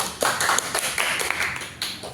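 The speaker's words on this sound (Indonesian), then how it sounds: "kita berikan tepuk tangan untuk teman Yeni." Classroom applause for a student during a university micro-teaching competition in economics education in Kupang: a brief burst of clapping and tapping, moderately close, with no talk over it.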